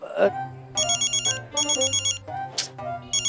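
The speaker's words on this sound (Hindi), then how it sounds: "अरे दीवान जी, ये वाला फोन बज रहा है।" A mobile phone in a market gives an electronic ringtone that repeats in steady pulsing bursts, loud and close, while a person talks over and between the rings.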